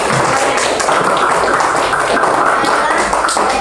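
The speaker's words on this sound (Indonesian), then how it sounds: "Tepuk tangan dulu" Steady, dense applause from a room full of people after a group presentation, continuous clapping at an even level throughout.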